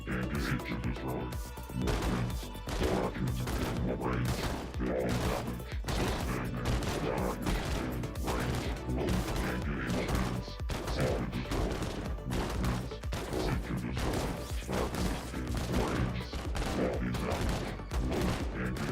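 Troops fire from inside a heavy vehicle in the real-time strategy game ZeroSpace, producing dense, relentless volleys of game gunfire and blasts that continue without pause for the whole stretch, with a voice talking faintly underneath.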